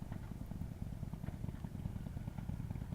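A 2018 Harley-Davidson Road Glide Special rumbles close by while being ridden, a steady low throbbing engine pulse that holds at an even level throughout.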